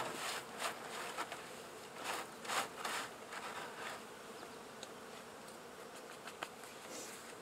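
Honeybees buzz steadily from an open hive during hive work in Swanzey, New Hampshire, a soft continuous drone with occasional louder passes of single bees close by.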